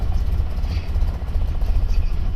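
A Toyota 4Runner engine idles just after starting, a loud, close, low rumble with a quick uneven chugging pulse and light mechanical clatter on top, running steadily throughout.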